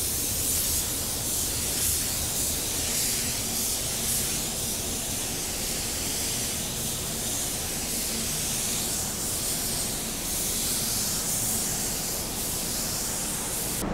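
Base coat paint spraying onto a car from a Wacom 1.3 base coat edition spray gun, a loud continuous broadband hiss that runs steadily with slight swells, no voices.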